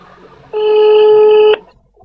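A single sustained electronic telephone tone sounds for about a second, loud and close, over faint background noise.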